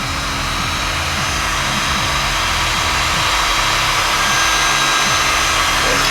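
A heat gun blowing hot air over heat-shrink tubing on a CNC control cable, a loud, steady, broadband roar close up that holds continuously throughout with no talk.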